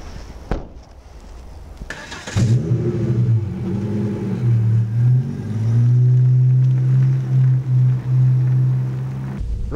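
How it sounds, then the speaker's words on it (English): A petrol car engine rumbles steadily from inside the vehicle in a built-up area, its pitch rising and falling as it pulls away and cruises, with a door-like thump at the end. "Right now we're trundling along the old-fashioned way, pumping out petrol exhaust in a built-up area."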